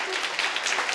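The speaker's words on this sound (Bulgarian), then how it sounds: "Нека да ги аплодираме с заслужени аплодисменти и да заповядат тук." Applause for the parents of the bride and groom at a wedding, a steady dense clapping from a crowd filling the whole moment.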